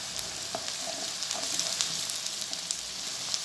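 Crushed garlic and ginger fry with browned onions in desi ghee for a Punjabi cauliflower and potato dish, a steady close sizzle with soft crackles and occasional stirring scrapes, no one talking.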